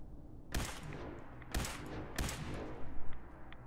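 Automatic shotgun blasts in Fallout 4's Glowing Sea, three loud, sharp shots spaced about a second apart, each with a ringing tail, followed by a few smaller cracks and rattles.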